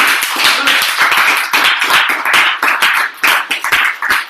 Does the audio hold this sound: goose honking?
no